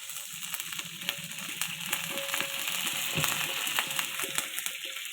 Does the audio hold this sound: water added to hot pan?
yes